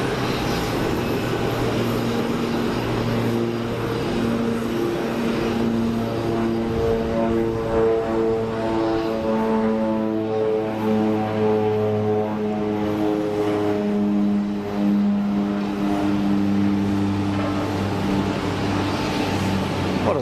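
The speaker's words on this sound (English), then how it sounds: "It's the Twin Otter." A de Havilland Twin Otter turboprop at Geneva Airport, its engines giving a loud, steady droning hum with strong tonal harmonics that shift in pitch as the aircraft passes, continuous for the whole stretch.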